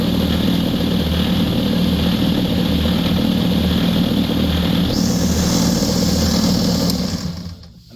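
A Vevor oscillating spindle and 4x24 belt sander runs steadily, a constant motor hum with a rhythmic oscillating drone and rattling vibration, before winding down at the end.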